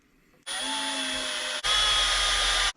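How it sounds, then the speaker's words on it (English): Power drill driving screws to mount an adapter on a Traxxas UDR speed controller: two short, loud whirring bursts back to back, close by, with no talking. "this adapter will just mount right into where the old location was, using the same screws"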